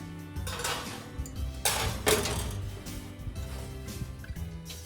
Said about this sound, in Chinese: 然后我们把它放到烤盘里面进行烘焙，像这样子把它们码放好